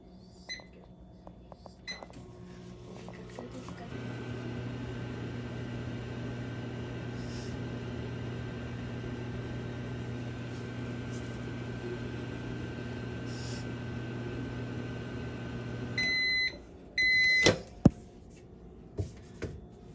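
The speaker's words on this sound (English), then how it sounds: "Now you'd want to put it in the microwave for 1 minute 20." A microwave oven hums steadily with a low drone for about twelve seconds, then finishes with a few sharp electronic beeps, followed by clicks and clunks as the door is handled.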